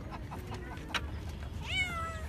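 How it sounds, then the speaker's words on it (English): A cat at an animal shelter lets out one clear rising meow near the end, preceded by faint scattered cries against a busy room hum. "And then we got cats over there."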